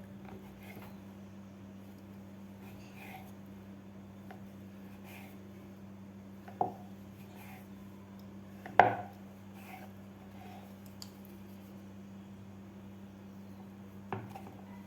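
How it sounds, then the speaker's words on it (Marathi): Sweet shankarpali dough being cut into small pieces on a board, a few sparse, sharp taps and knocks spaced seconds apart over a quiet background with a low steady hum. "अशा प्रकारे ह्याचे आपल्याला छोटे छोटे शंकरपाळे कापून घ्यायचे आहेत"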